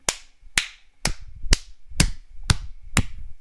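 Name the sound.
slow clapping imitated by the speaker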